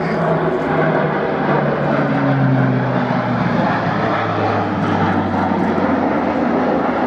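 An Airbus A400M turboprop transport flies a display at RIAT 2014, its four propeller engines giving a loud, continuous roar with a slowly falling drone as it sweeps past, with no voices.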